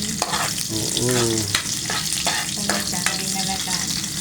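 Ginger and onion sauté in a hot pan, a loud close sizzle with repeated scraping strokes of stirring, under brief speech and a short voiced sound.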